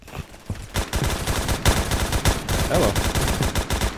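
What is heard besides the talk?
gunfire in video game Roblox Phantom Forces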